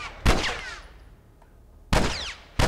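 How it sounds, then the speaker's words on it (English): Gunfire in The Last of Us, two sharp loud shots with ringing, echoing tails about a second and a half apart, then a third shot starting at the very end, with no talking. "Gunfire."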